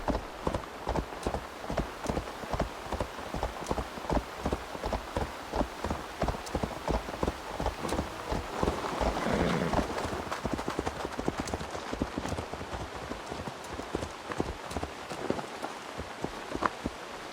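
Steady rhythmic clip-clop of horse hooves in Assassin's Creed Valhalla, close and continuous, with a soft rain-like patter in the background.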